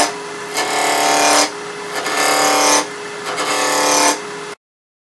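A light cut on a wood lathe while turning a coffee scoop gives a steady raspy, hissing scrape over the hum of the spinning lathe, coming in three sustained passes with brief pauses between them, close and fairly loud.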